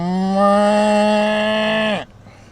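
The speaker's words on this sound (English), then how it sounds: "Baby cow alert." A calf gives a single loud, sustained moo lasting about two seconds, close by, with no other sounds over it.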